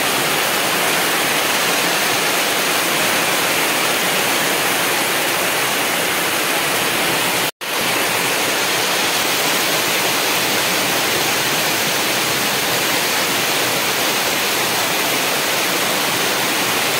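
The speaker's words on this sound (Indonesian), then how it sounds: "Kondisi hujan." Heavy rain pours in a steady, dense roar with constant hiss and no breaks or voices, during an outdoor fishing session.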